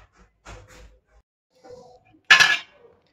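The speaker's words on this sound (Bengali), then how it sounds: "এবার আমি ঢাকাটা খুলে দেব।" A metal lid is lifted off a pot of cooked basanti pulao, producing one bright, close clatter and clink, preceded by a few soft, faint murmurs and light handling noises.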